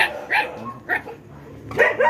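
Dog barking at a cobra in Dagupan City, Pangasinan: three or four sharp, excited barks spaced irregularly, fairly close, over a low background hum.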